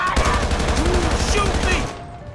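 Rapid bursts of gunfire in GTA 5, a rattling volley lasting nearly two seconds before cutting off, with game sounds and faint voices behind.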